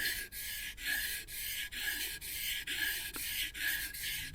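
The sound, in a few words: wood chisel rubbed back and forth on a waterstone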